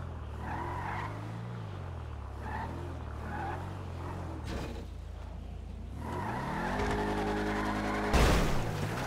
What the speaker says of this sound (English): Go back and hit his car just for the fun of it.